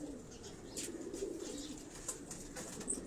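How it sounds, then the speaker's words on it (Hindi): Pigeons cooing in a rooftop loft in Karachi, a steady low murmur of soft overlapping coos with faint higher chirps, moderately close and continuous, with no talk. "यहाँ भी आपको बड़े बड़े अच्छे कबूतर देखने को मिलेंगे।"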